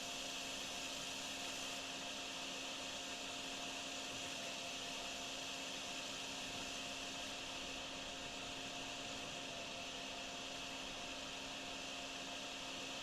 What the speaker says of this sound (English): since we have the infinite vacuum, just gonna drain it manually